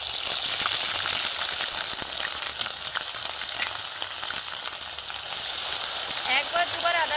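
Ginger garlic paste hits hot oil with cumin and chili in a pan over lowered heat, giving a loud, steady sizzle and crackle throughout, with faint stirring scrapes near the end.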